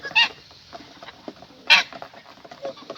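Chickens cluck softly and intermittently while pecking at feed outdoors, with a couple of sharper squawks standing out over scratchy background patter.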